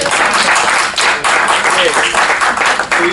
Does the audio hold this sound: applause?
yes